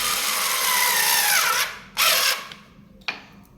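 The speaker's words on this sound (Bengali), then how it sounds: "আর আমাদের এই যে হ্যান্ডি টুলস কোডলেস স্ক্রুড্রাইভার, এটা দিয়ে আমরা খুব সহজে এই কাজগুলো করে ফেলতে পারি।" A Handy Tools cordless screwdriver drives screws into wood, a loud whirring motor run that winds down with a falling pitch, followed by two shorter bursts with pauses between.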